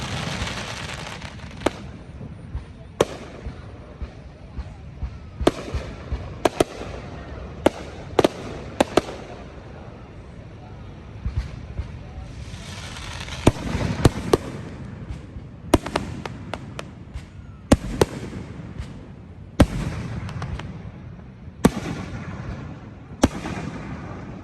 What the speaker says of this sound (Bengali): আপনাদেরকে সাদর আমন্ত্রণ জানাচ্ছি নায়াগ্রা ফলসের ফায়ার ওয়ার্কস দেখার জন্য।